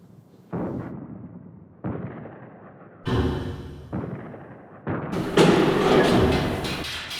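Booming blasts and bursts of gunfire from a D-Day light-and-sound show recreating machine gun fire and shell bursts on the beach, arriving in several loud separate waves that build into a dense, roaring barrage near the end.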